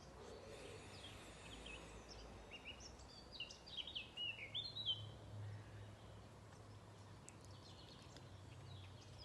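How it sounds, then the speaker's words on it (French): Small birds chirp and trill faintly in the distance, scattered calls over a soft outdoor background hum with no talking. "Les oiseaux chantent."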